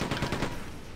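Rapid enemy gunfire from the Quake 2 remaster, a dense, loud rattle of quick shots packed into a single second.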